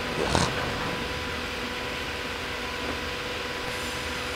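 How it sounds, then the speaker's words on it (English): Loaded freight train in the Trainz railway simulator; a steady rolling rumble continues throughout, with a brief sharp squeal or screech near the start and a fainter one later. "There is a fully loaded train."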